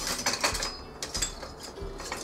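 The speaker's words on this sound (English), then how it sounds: "now I'm gonna whisk this." Ingredients are whisked in a home kitchen with quick, rhythmic metallic ticks and scrapes of a whisk against a bowl, close and steady over a short stretch.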